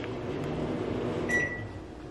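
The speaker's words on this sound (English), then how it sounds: "I will place this in my microwave" A microwave oven melting chocolate gives a steady, close hum, and a short beep rings out partway through.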